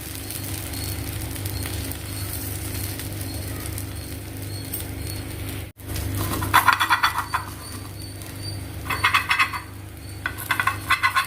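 A ladle of pearl millet adai batter fries on a pan with a continuous sizzle, later broken by louder bursts of scraping and stirring, all close and without talk.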